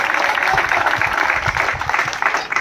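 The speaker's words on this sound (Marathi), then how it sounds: "यांच्यासाठी जोरदार टाळ्या लागल्या" Loud, dense applause from an audience at an award ceremony, continuous clapping held steady throughout with a faint murmur of voices underneath.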